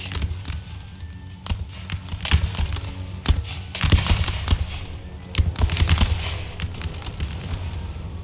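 Dense musket volleys and scattered gunshots crackle through a battle in Empire: Total War, Swedish troops fighting at the woods; rapid overlapping shots with heavier bursts over a continuous low rumble, no talk.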